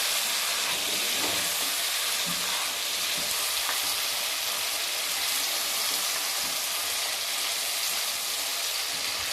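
Black pepper, garam masala, cumin, dried coriander and salt are stirred into Balochi chicken karahi over high heat, making a loud unbroken sizzle with soft scraping stir sounds mixed in, close and with no voices.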